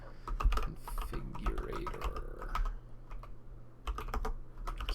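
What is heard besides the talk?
typing on a Boardsource Mk 65 mechanical keyboard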